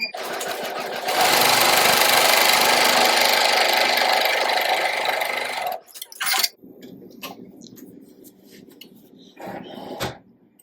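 A home embroidery machine sews an appliqué tack-down stitch over bow fabric held in a MightyHoop 5.5 inch hoop: a loud, steady mechanical whirring runs for several seconds, then stops, leaving quieter clicks and handling noises.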